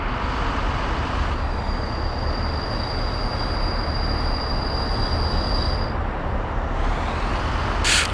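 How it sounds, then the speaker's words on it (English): Freight train hauling bricks in Workers & Resources: Soviet Republic, a steady loud rolling rumble of railcars with a sustained high metallic whine through most of it, then a brief hiss near the end. "The brick train."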